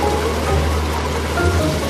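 Rain falls steadily on a yacht in the Mediterranean near Crete, making a dense, even patter and hiss with a low rumble underneath and no talking.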